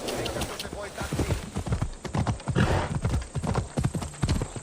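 Hooves clip-clop rapidly as a horse gallops over rocky ground in the video game Assassin's Creed Odyssey, a close, rhythmic drumming with a voice talking over it.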